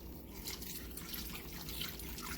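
Beef broth made from water and bouillon cubes is poured over seared rouladen meat, giving a steady, soft splashing and trickling wash of liquid that runs throughout.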